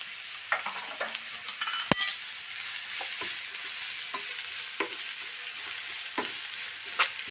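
Sliced onions with curry leaves and a little salt sautéing in a hot pan for a quick chicken roast, a steady close sizzle broken by occasional stirring scrapes and clicks, with no voices.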